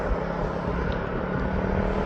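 A white Jet2.com-liveried airliner at East Midlands Airport gives off a steady, broad engine roar that holds at an even level throughout, with no voices present.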